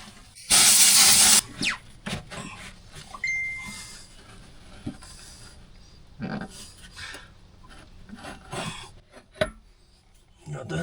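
Spray bottle spritzing cleaner onto a grimy auction skid steer: one loud, close burst of hissing spray, followed by quieter scraping and clattering handling sounds.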